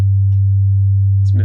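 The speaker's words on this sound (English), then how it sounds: "make sure we pick a sine wave." A pure low sine tone from the Ableton Operator synthesizer, held steady and loud throughout, with a brief voice or noise burst entering at the very end.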